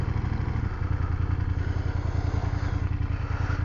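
A BMW F800GS motorcycle engine runs steadily at close range with a throbbing low rumble, a brief clunk around half a second in as it shifts from neutral into first gear.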